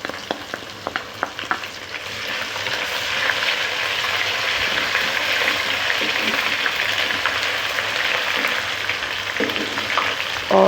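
Golden-brown onions and ginger-garlic paste fry in hot oil, giving a loud, steady sizzle with stirring scrapes that swells after the first couple of seconds.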